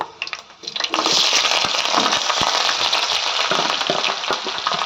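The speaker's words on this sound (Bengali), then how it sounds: "তারপরে এর এর মধ্যে দিয়ে দেবো পেঁয়াজ কুচি" Chopped onion dropped into hot oil with whole spices for a mutton and potato curry: a brief clatter, then a loud, sustained crackling sizzle close by, with no talking.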